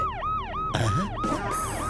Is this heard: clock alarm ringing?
no